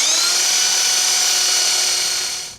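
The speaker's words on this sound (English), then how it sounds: "So first I'm drilling a hole straight through." A power drill whines steadily at high speed while boring a hole straight through a wood railing for stone steps, holding a constant pitch before spinning down at the end.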